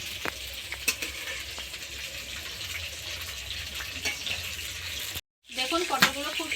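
Whole pointed gourds (potol) fry in a pan with a steady, close sizzle and occasional stirring scrapes, then after a brief gap a louder burst of frying returns.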